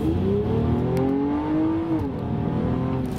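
A 2017 Honda Accord Coupe V6 revs hard as VTEC engages, the engine note climbing steadily in pitch for about two seconds before dropping at a gear change, loud and sustained from inside the cabin.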